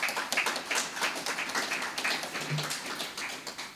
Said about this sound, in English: Another round of applause for La Gracia.